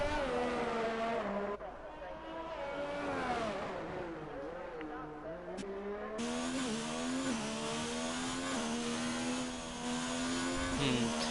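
A race car engine in a racing video game leaves the pits at the Canada circuit, a steady buzzing drone with rising and falling revs under continuous commentary.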